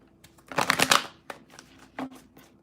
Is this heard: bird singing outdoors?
no